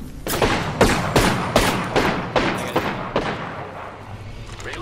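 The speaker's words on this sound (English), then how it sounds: "The enemies are shooting at me." Video game enemy gunfire rattles in a rapid series of about ten loud, sharp bursts close by, spaced unevenly and fading a little toward the end.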